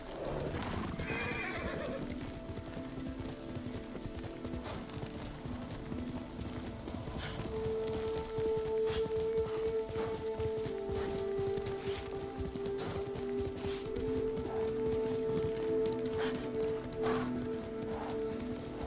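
A horse whinnies over a steady clatter of hooves in the video game Ghost of Tsushima, with a sustained musical tone droning underneath and no talking.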